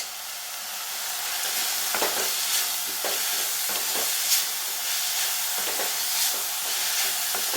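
Grated coconut and roasted gram sauté in a pan for mint chutney, giving a steady, soft sizzle and hiss. Occasional scraping stirs sound through the frying.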